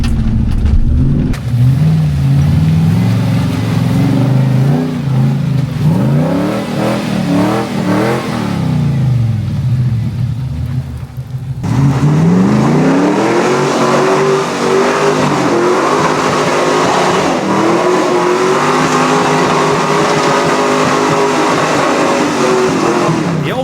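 A 4WD on an off-road hill climb, either a 79 Series Landcruiser or an LS-swapped Patrol, its engine revving hard and loud, rising and falling in pitch, briefly dropping off, then surging again in a sustained climb.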